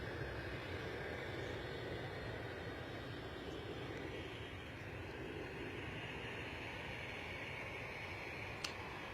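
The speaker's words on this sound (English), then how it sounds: "Bit of noise from a louder jet opposite us." A louder jet sits across the field at London Stansted airport, a faint, steady broadband roar of engine noise that holds without break and heard from a distance.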